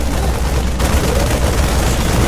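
Marines firing at a Queen in StarCraft II, a dense, loud, continuous rattle of rapid gunfire that barely lets up for the whole stretch.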